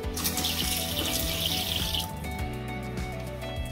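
Water pours from a newly fitted mixer tap in a camper bathroom, a bright steady hiss for about two seconds before it shuts off, leaving quieter clinks and squeaky handling sounds.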